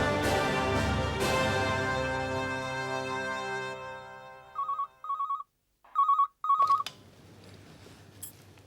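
A telephone in a Hindi TV serial scene rings in short repeated electronic bursts, four rings with gaps after a fading musical sting, close and clear.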